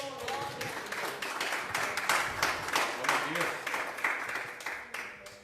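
Steady, dense applause from a church congregation, clapping continuously at moderate loudness with some voices mixed in, fading slightly at the end.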